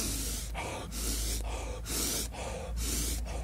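Panicked breathing through the mouth: about six loud, rushed breaths alternate in and out in a steady rhythm, very close to the microphone.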